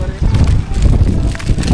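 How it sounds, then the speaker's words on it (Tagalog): Loud, blustery wind buffeting the microphone with a low rumbling roar that stays constant throughout. "Lakas ng hangin."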